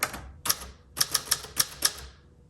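An Adler J5 typewriter clacks in a few sharp, uneven keystrokes, close and crisp, with brief pauses between strikes.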